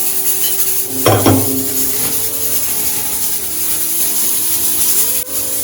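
Cornmeal is mixed in a bowl, a utensil scraping and stirring in soft continuous strokes with one sharper knock against the side.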